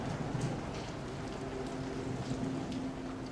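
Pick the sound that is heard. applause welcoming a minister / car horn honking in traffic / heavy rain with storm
heavy rain with storm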